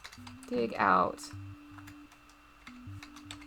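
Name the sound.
typing on computer keyboard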